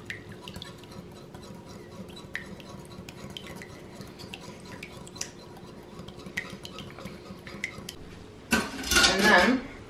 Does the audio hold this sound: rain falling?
no